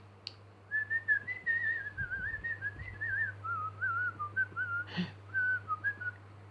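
A person whistles a wavering melody through pursed lips, a series of clear sustained notes rising and falling, close and fairly loud, broken by brief pauses and a faint knock.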